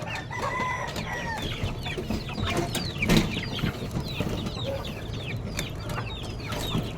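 Crowded chickens in a cramped cage cluck busily and continuously, with a rooster crowing among them, close and steady with no voices.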